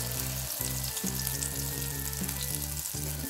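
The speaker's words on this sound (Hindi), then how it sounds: "अब मैंने ऑयल डाल लिया है पैन में, मैं इसमें चिकन डाल दूंगी।" Marinated chicken sizzles steadily in hot oil in a pan, a loud continuous crackle with faint periodic stirring or scraping pulses underneath and no talking.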